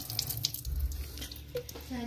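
Water running from a tap into a container at home, a steady close splashing rush over a short stretch, with a faint voice in the background.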